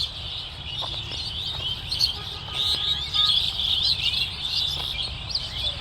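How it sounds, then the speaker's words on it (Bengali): Many birds in trees and low shrubs in a green patch of Dhaka keep up a busy chorus of chirps and calls, moderately distant over a low outdoor background hum, with no one talking. "প্রচুর পরিমাণ পাখির কোলাহল।"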